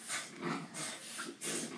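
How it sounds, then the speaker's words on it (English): Two dogs fighting indoors, with a few bursts of snarling and yelping scuffle at close range, rising and falling in loud waves with no talk over them. "Sorry, my dogs are fighting."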